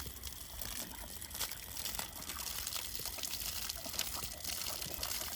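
A hose pipe runs water over a horse to cool it at a horse farm, making a soft, continuous pouring and splashing with scattered crackly spatters, fairly quiet and steady.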